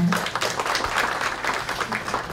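An audience at a Buddhist press culture award ceremony applauds in thanks to the head judge, a brief burst of steady clapping from a mid-sized crowd, fairly near and alone.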